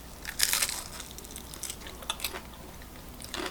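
Close, crisp crunching of battered Korean fried chicken being bitten and chewed, in several loud bursts with quieter chewing between.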